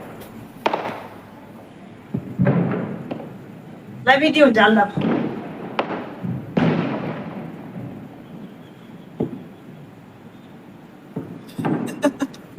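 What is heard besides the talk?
firecrackers exploding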